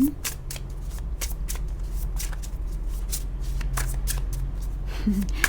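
Close, brisk shuffling of a large deck of tarot cards, repeated riffling bursts in a quick irregular rhythm with a faint murmur of talk underneath.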